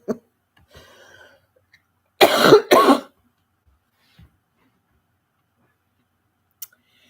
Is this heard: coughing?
yes